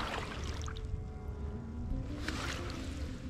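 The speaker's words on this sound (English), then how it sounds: "This way I just keep on paddling on one side." A canoe is paddled on one side with a J stroke, giving a continuous close wash of water swirling and splashing against the paddle and hull, with surges of splashing, no talking.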